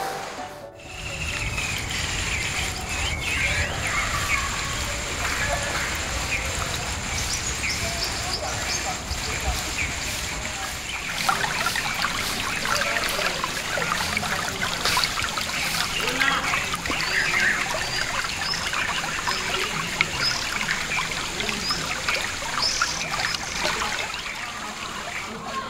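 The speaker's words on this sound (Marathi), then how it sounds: "पाटाचा खळखळा आवाज येतोय" Water gurgles continuously along an irrigation channel through farmland beside a temple in Konkan in the evening. It is a steady, moderate babble that runs throughout, with voices at times.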